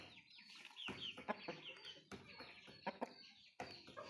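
Two fighting roosters cluck and squawk in sharp agitated bursts, close by, with short scuffling pauses between the calls.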